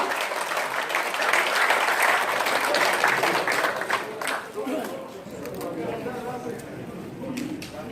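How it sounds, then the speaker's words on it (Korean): Audience at a lecture event's opening ceremony giving loud, dense applause for a saxophone performer, the clapping strong at first then thinning out as murmured chatter and voices rise through the room. "여러분 큰 박수와 함께 섹스폰 연주 들려드리겠습니다. 큰 박수 주십시오"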